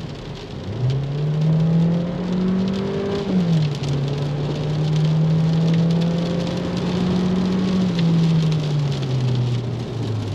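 A small 1.4 car engine revs with the pedal floored, its strained drone climbing, dipping briefly, then holding a steady labouring pitch before easing off, under a constant hiss of road noise or rain.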